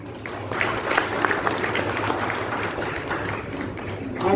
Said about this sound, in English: let's give a big round of applause to all the freshers who have started their journey in this college.